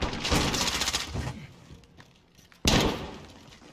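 Gunfire from a .50 cal pistol in the Call of Duty video game: a burst of loud, sharp shots in the first second and a half, a quieter gap, then another heavy blast that rings out and decays.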